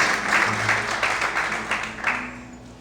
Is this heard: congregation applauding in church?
yes